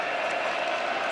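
A football stadium crowd at the 2023 Alabama vs Ole Miss game, cheering as a steady, dense roar that fills the whole clip, loud and unbroken.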